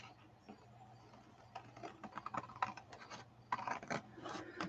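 Scissors snip and trim through fabric for a cover spine, producing a quiet run of dry, scratchy cuts that grow busier and more frequent toward the end, with no talk.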